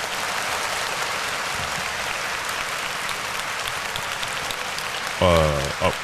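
Steady applause from a crowd fills the whole stretch, with a voice briefly cutting in near the end.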